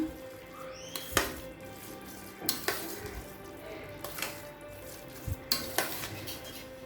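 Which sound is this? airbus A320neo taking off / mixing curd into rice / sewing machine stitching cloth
mixing curd into rice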